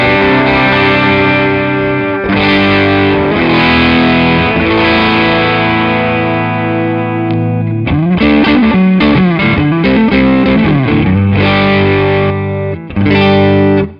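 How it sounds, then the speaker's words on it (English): An electric guitar plays through a Tech 21 Richie Kotzen RK5 Fly Rig overdrive into an amp, giving a loud, warm, Fender-like driven tone: sustained chords, then choppier picked phrases, with no talking. "So it's kind of acting as a sort of a Fenderish overdrive."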